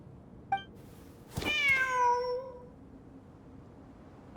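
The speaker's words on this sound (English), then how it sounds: "Wait, there it is! The cat!" A single drawn-out cat meow from a cat in the video game Genshin Impact, clear and fairly close, with a short click before it and a quiet background.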